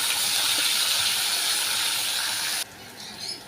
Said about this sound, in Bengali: প্রথমেই ভেজে নেব উচ্ছেটা